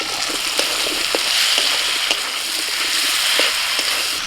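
Fried green jackfruit pieces go into a sizzling curry masala whose oil has started to separate, giving a loud, continuous sizzle broken by repeated sharp crackles and stirring knocks, with no talking.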